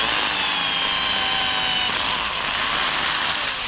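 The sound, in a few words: drilling holes for garden fence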